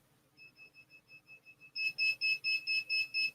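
HS-10 pinpointer metal detector beeping: a steady run of short electronic beeps, faint at first, then sharply louder and brighter for the last few pulses, alone with no talk.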